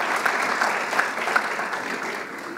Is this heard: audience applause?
yes